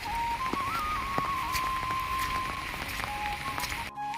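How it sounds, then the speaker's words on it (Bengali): Steady rain pours over a village after five days of nonstop rainfall, a dense even hiss throughout with a thin high whistling tone running above it; no talk. "লাগাতার 5 দিন থেকে বৃষ্টি দিচ্ছে, এমনভাবে বৃষ্টি দিচ্ছে মানে বলার বাইরে"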